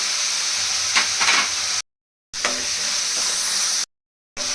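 Onions fry in a pan with ginger-garlic paste for an oyster mushroom masala, a steady close sizzle broken by stirring scrapes and two sudden short silences.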